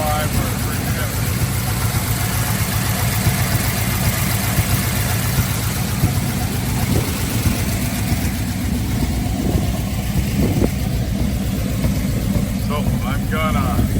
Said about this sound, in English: That's some lifter noise, non-drop.